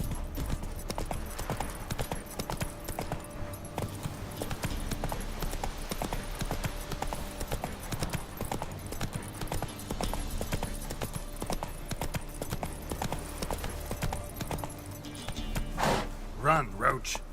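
Rhythmic clip-clop of a horse's hooves at speed in The Witcher 3, a steady repeating gait running under game music and ambience, with a brief burst of louder noise near the end.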